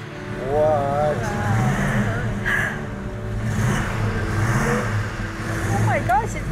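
A car engine, a family heirloom, revs and idles nearby in a steady mid-pitched drone with small surges, while excited voices talk over it throughout.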